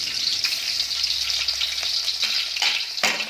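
Loud, continuous hiss of garlic frying in hot oil, close up, with a few sharp stirring clatters and no talking.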